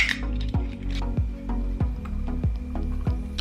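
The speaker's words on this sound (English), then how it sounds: "Then I'm going to add a splash of this sparkling water." Sparkling water pours into a glass with a gurgling, glugging rhythm of repeated pulses, close and fairly loud, with no talking.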